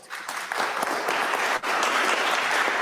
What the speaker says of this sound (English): The same people are clapping.